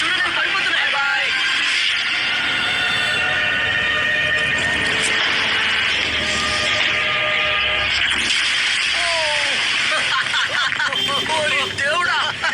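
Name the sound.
buses beeping and honking horns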